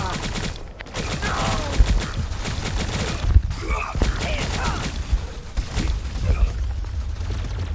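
Rapid bursts of video game gunfire pop and crackle over a busy game soundscape, repeated volleys across several seconds with sharp transients and no speech.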